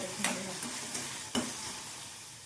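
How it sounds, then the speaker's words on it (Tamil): Okra (ladies finger) frying in a pan for tamarind curry gives a faint, steady sizzle, with two short sharp stirring clicks breaking through. "இப்போ வெண்டைக்காயை பார்த்திங்கன்னா இந்த மாதிரி நல்லா வறுத்து எடுத்துக்கலாம்"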